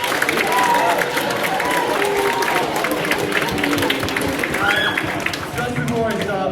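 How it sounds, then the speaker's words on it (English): Applause at a school film competition awards ceremony, heard as a dense wash of crowd clapping and noise that stays loud and steady for several seconds, with voices mixed in. "So big round of applause for all of you guys."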